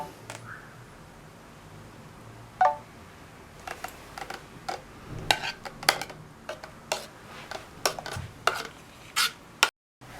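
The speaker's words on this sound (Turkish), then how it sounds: "Şöyle kaşıkla her bir tarafını düzeltelim." Spoon smoothing cream topping over a cake: soft scattered scrapes and light clicks of metal against the cake and dish at irregular intervals, close and quiet without talk.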